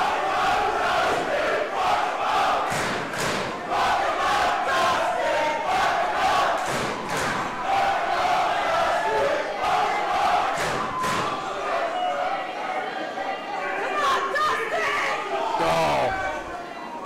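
A crowd roars and shouts at a fight between two fighters, a dense, sustained wall of voices with rising bursts of yelling and a few thuds.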